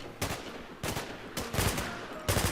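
Gunfire in the survival shooter Infestation, a few sharp bursts of shots cracking out at irregular intervals, fairly close and loud with no talk over them.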